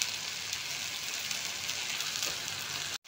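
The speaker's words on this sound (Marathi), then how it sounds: "मुगाची डाळ थोड्याशा तेलामध्ये भाजून घेऊया" Mung dal roasts in a little oil, making a soft, even crackling sizzle that runs steadily before cutting off abruptly at the end.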